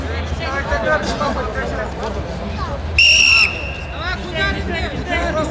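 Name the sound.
referee whistle at kuresh wrestling bout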